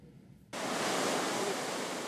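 Huge ocean waves, near 30 metres high, break at Nazaré beach in Portugal: a sudden roar of broadband surf wash bursts in and stays loud and steady.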